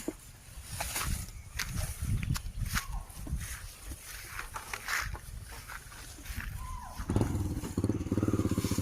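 A motorcycle with a sidecar, a Thai saleng, rumbles past nearby, its engine rising and falling among crunching footsteps and scattered outdoor noise, growing louder toward the end.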